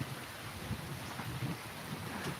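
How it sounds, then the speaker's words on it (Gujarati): Heavy rain with wind on a farm, a dense steady wash of noise with gusty rumble and microphone buffeting throughout, with no voices. "હા એટલો બધો ચાલુ છે વરસાદ"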